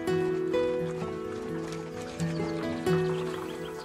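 Lipizzaner stallions graze on an alpine mountain pasture, with soft hoof clops and a whinny heard faintly beneath steady background music.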